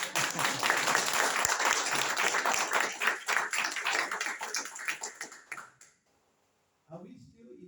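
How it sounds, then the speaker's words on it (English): An audience at a product training event claps and applauds in a dense, lively burst that fades to silence near the end, followed by a brief voice. "If you believe me, clap harder."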